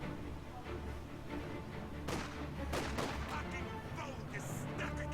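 Mortar and gunfire in the Company of Heroes 2 video game: sharp gunshots and heavier blasts crackle over a steady battle din, with someone commentating throughout.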